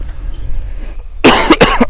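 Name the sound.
cough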